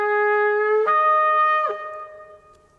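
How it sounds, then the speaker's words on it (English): A shofar sounding the Tekiyah call: one long, loud, brassy horn blast held close, its pitch stepping up sharply twice before it tails off and fades. "The first call, Tekiyah,"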